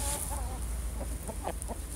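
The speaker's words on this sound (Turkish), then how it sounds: "Bu da erkek bir tane tavuk." A rooster held in someone's hands gives soft, repeated clucks in short bursts over a steady low background hum.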